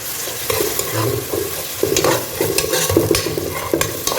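Garlic and ginger paste frying in hot oil for Ambur mutton biryani, sizzling steadily while a utensil stirs and scrapes the pan in repeated strokes, loud and close with no talk.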